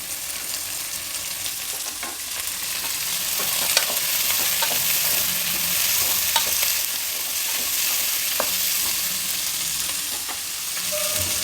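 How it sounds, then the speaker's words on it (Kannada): Chopped onions frying in a pan for an ivy gourd curry, a steady close sizzle with occasional stirring clicks and scrapes, no talking. "ಮತ್ತು ಹಚ್ಚಿಟ್ಕೊಂಡಿರೋ ಈರುಳ್ಳಿ ಈಗ ಹಾಕ್ತಾ ಇದ್ದೀನಿ"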